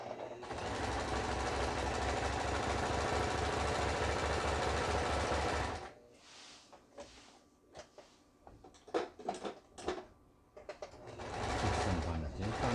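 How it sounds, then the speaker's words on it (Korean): A Brother GA15 sewing machine runs steadily at close range for about six seconds while stitching zigzag, then stops; a voice talks over brief clicks and handling noises, and the motor starts up again near the end. "다음에 패턴 다이얼을 돌려서 지그잭 바느질이라 그러죠"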